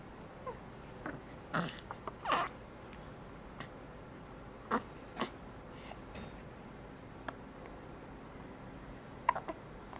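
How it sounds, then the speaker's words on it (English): A person hiccups several times at irregular intervals, each one a short, sharp catch in the throat. The hiccups are fairly close but quiet, with soft handling noises in between and no talking. "You still got the hiccups."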